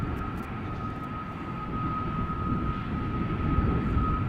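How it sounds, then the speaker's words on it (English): Airbus A330 jet engines at Amsterdam Schiphol Airport drone steadily with a thin high whine, the roar swelling slightly as the aircraft draws closer. "A330 engines coming this way."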